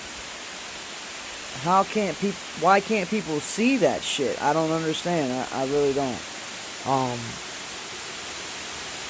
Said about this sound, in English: But I apologize for the rain.